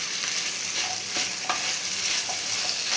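Onions sauté in a pan for egg chilli, a steady close sizzle with occasional stirring scrapes and taps, no voices.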